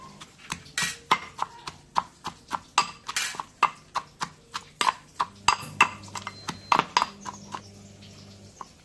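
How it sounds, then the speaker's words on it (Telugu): Onions being pounded in a mortar and pestle while making a stone-ground brinjal chutney, a close series of sharp, hard thuds struck at a steady pace of roughly two or three per second, with a faint background hum. "ఇప్పుడు ఉల్లిగడ్డల్ని దంచుకోవాలి"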